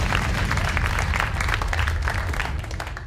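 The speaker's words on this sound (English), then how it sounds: "Clap it up for all the moms in here." Audience applause at a comedy show fills the room, steady dense clapping from a crowd, loud and continuous for the whole stretch, fading slightly toward the end.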